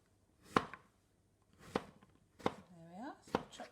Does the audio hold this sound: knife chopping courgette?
yes